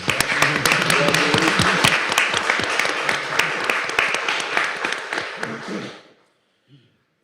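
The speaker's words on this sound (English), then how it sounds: "Y'all give them another round of applause." Audience applause at a board meeting: dense, steady clapping from a roomful of people for about six seconds, close and fairly loud, then tapering off quickly into near silence.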